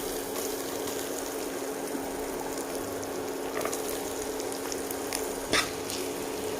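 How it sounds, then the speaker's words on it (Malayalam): Coconut frying in oil in a pan for a Pesaha appam dish, a soft continuous sizzle with a few faint stirring clicks and one sharper tap near the end, no voices. "ഇനി കോക്കനട്ട് കൂടി ഫ്രൈ ചെയ്തെടുക്കാം."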